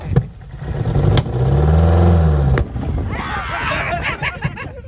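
A Chevrolet S10 truck engine running on nitrous with no oil, loud close revving that climbs and holds, with sharp pops and bangs before it cuts out, followed by rougher sputtering and crackling.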